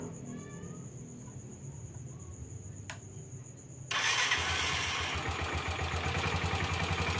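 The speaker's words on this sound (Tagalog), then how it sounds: "Subukan natin kung gagana yung starter." An engine with a low battery cranks on its electric starter and catches, shifting from quiet with chirping insects to a steady, louder mid-pitched idle rumble that carries on to the end.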